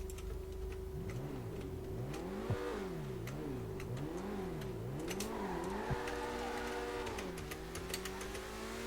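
A car in the video game GTA V revs and takes off, its engine tone sweeping up and down in repeated waves over a steady background hum, with a ticking sound running throughout.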